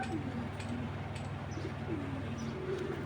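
An inbred stone-eyed Netherlands female racing pigeon coos in low, repeated murmurs, with faint chirps from other birds in a steady loft background.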